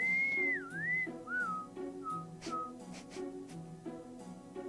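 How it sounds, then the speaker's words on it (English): A character in the video game Trails of Cold Steel whistles nonchalantly, a clear, close melodic tune in short gliding phrases over soft in-game background music. "Nonchalantly whistling."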